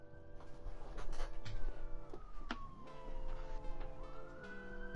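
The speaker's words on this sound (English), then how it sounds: "The ambulance is going by again." An ambulance siren sweeps past inside a Rainbow Six shooter match, a wailing, pitch-gliding tone that holds steady under game noise for the whole stretch.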